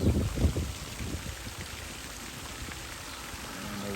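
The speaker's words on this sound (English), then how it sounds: "They do have a beautiful pond at the front here with a nice waterfalls over there." A waterfall pours into an ornamental pond at a garden centre, making a steady broadband splashing rush. A brief low voice-like rumble sits at the start.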